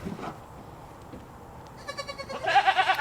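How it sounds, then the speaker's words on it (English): A guard goat in a shed bleats in a series of loud, wavering calls near the end, close by, after a quiet stretch of faint background noise. "he's a guard goat"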